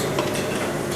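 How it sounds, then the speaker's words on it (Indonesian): Garlic stir-fried in a pan, a steady dense sizzle with faint scraping of a utensil, close and continuous, without speech. "Bawang putih kita tumis sampai benar-benar wangi ya."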